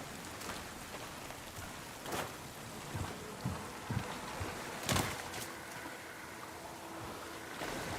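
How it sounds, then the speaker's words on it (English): Rain falls steadily in the video game No Rest For The Wicked, a soft, continuous patter on surfaces with scattered louder drops and faint thuds throughout. "just listen to the rain"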